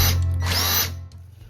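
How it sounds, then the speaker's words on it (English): A power drill bores a 9/16 hole into the housing of a Honda generator, a close, loud whining spin that runs for under a second before winding down. "then we're going to drill a 9/16 hole."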